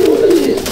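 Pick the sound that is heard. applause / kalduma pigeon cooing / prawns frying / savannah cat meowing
kalduma pigeon cooing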